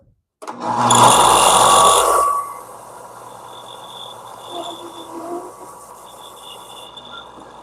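A power sander smoothing and chamfering wooden edges in a workshop, running loud and close for about two seconds before dropping to a quieter steady hum that fades over the rest.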